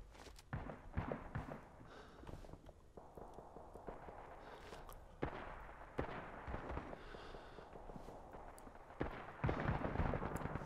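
Gunfire in the video game Rising Storm 2 crackles throughout, repeated sharp shots and bursts of varying distance scattered over a continuous noisy battlefield background.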